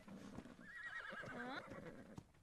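Horse whinnying in the video game ARK, a single bright, wavering neigh lasting about a second amid soft hoof clops and quiet background sound.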